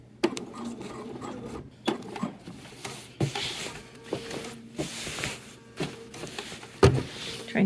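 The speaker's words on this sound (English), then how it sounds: "Just top stitching." A sewing machine topstitches a seam on a McCall's 8358 Laura Ashley-style cotton wrap dress in short, repeated bursts, each quick whir separated by brief pauses and soft fabric handling sounds nearby.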